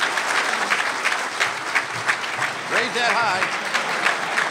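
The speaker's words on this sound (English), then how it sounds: "How about a big round of applause?" A crowd at an event honoring Chicago Cubs chairman Tom Ricketts gives a big round of applause, sustained clapping throughout while a voice speaks briefly over it.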